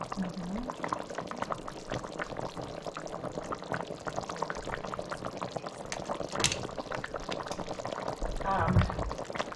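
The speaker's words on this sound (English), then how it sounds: "the potatoes are still boiling" Potatoes boil in a stew pot of chicken with a steady bubbling wash throughout, and people talk over it.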